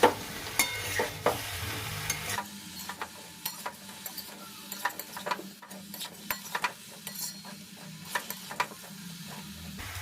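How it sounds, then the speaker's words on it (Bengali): Pumpkin with winter vegetables and spices fries in a pan, a soft sizzle running underneath repeated sharp scraping clicks of a spatula stirring against the metal. "ওটা একটু ভাজা হয়ে যাক, মশলাটা একটু ভাজা হয়ে যাক।"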